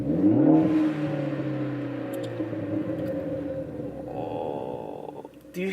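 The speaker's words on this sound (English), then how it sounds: "so now we're in the car, so let's rev it up and see what happens." A Ford Focus ST fitted with an MBRP catless downpipe revs from inside the cabin, a loud deep surge that settles into a droning rumble, then a gurgling burble near the end, with no talk.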